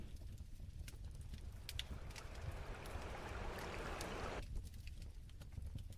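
Rushing stream sound effect in an Unreal Engine forge scene swells into a steady broadband wash for a few seconds, then cuts off, with a fireplace crackling softly in the background throughout.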